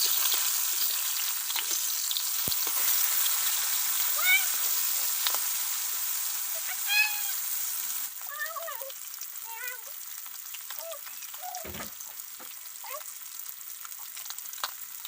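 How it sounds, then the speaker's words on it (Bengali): Fish rubbed with turmeric and salt sizzle in hot mustard oil in a wok, a steady close crackle with sharp pops and spits scattered throughout, easing slightly partway through. "তেল ভালোভাবে গরম করে মাছগুলো ভাজার জন্য কড়াইয়ে দিয়ে দিচ্ছি।"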